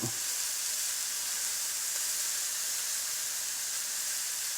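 Steak searing on a hot grill as it caramelizes, a steady close, loud hiss of sizzling fat running unbroken with no voices.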